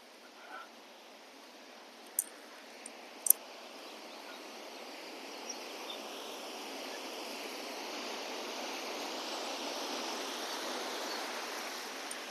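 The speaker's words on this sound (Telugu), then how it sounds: "చూడండి ఇక్కడ అసలు ఈ మరువు పారుతాంది చెరువు నిండేసి" Water spilling over the spillway of a full lake, a soft, steady distant rush that grows slightly over time, with a few faint clicks and a bird chirp.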